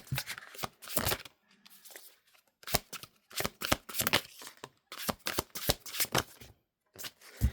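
Tarot cards are shuffled up close in repeated bursts of riffling and flicking, with short pauses between rounds as cards are drawn, fairly quiet and without voices.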